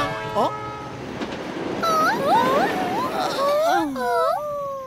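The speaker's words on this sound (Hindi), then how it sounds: "वाह, वो रेल कितनी तेज थी, कितनी तेजी से निकल गई थी ना।" An animated express train rushes past in a cartoon, with rising and falling whistle-like tones sliding over a rushing rumble, loud and close, then receding.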